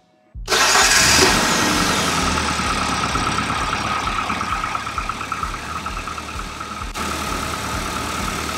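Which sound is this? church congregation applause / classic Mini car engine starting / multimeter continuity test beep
classic Mini car engine starting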